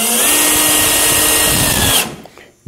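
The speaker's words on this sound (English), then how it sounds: "By drilling these pilot holes, you want to drill not quite as big as the screws you're using" A power drill whines loudly and steadily into wood, drilling a pilot hole for about two seconds, then stops abruptly, followed by a faint click.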